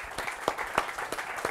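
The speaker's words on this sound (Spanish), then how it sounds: "le vamos a pedir un aplauso realmente a todos nosotros" An audience applauds at a conference on smart communities, big data and facial recognition, brisk scattered claps with sharp peaks in a short burst, moderately distant and with no voices over it.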